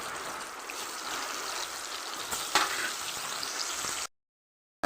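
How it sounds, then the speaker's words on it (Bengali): Two or three tilapia heads rubbed with salt and turmeric fry in oil in a wok, giving a steady, moderately quiet sizzle with a brief clink midway before it stops. "মাথাটাকে উল্টিয়ে পাল্টিয়ে চাইরো পাশে একদম ভালো করে ভেজে নেব"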